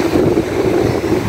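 A jet ski engine hums steadily on open water during a fishing outing, a low, even drone blended with wind buffeting the microphone and no pauses in its note.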